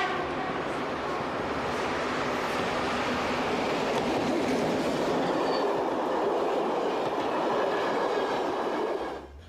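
Locomotive-hauled passenger train passing on a Belgian railway, a steady loud rumble and roar of wheels on track holding for several seconds before fading quickly at the end.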